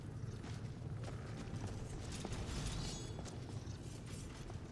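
Faint, intermittent creaks and mechanical clicks from creatures in a video game sound over a steady low ambient bed, scattered irregularly across the stretch with no speech.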